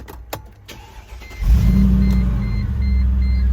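A 2010 Mercedes-Benz G 55 AMG starts up: a few light clicks, then the engine catches with a loud, close rumble and settles into a steady, deep idle.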